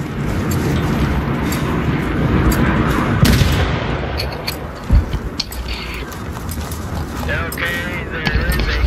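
Battlefield 3 combat with steady gunfire throughout and a deep grenade blast in the middle, loud and close, while voices talk over the game noise.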